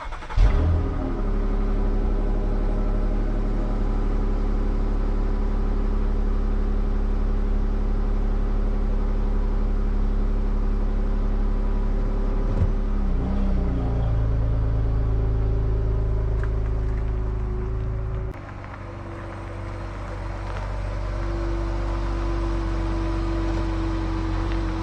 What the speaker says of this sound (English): Let's get the Jeep turned around,